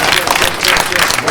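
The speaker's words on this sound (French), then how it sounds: "J'aimerais qu'on applaudisse très fort" An audience claps loudly and continuously in a dense, even burst of applause, close and unbroken across the moment.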